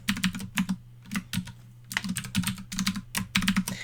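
Rapid, close keyboard typing as a new username and password are entered on a Foscam R4S security camera setup screen, with bursts of clicking keystrokes separated by short pauses over a steady low hum.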